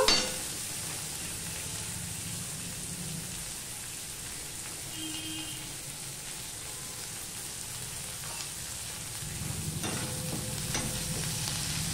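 Steady sizzling of onions frying in hot oil after nigella seeds, with occasional stirring scrapes, continuous and fairly quiet throughout.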